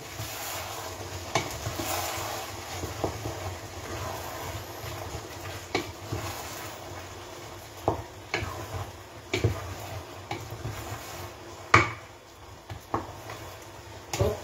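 Ogbono soup being stirred in a pot, giving soft scraping and occasional light knocks of the spoon against the pot over a low simmering background, with no talking.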